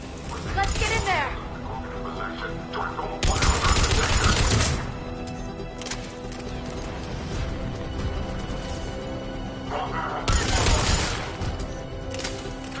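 Gunfire in the sci-fi shooter Mass Effect Legendary Edition: bursts of rapid weapon fire and impacts come in loud clusters separated by quieter stretches, mixed with game sound effects and character voices.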